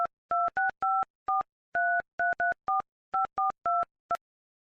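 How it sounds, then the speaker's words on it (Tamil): Telephone keypad dialing a call: a quick series of about fourteen clear, evenly loud two-tone DTMF beeps in short bursts with brief gaps, heard alone with no talking. "உங்க போனை கொண்டாங்க, இதுல இருந்து கால் பண்ணி பாப்போம்."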